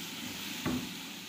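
Previously fried potato and eggplant are stirred into spices in a hot pan, with a soft, continuous sizzle and one brief scrape of the spoon partway through.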